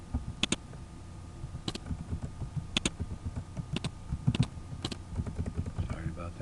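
Keys clatter on a computer keyboard as document tags are typed into File Explorer, with quick bursts of close, crisp clicks separated by short pauses.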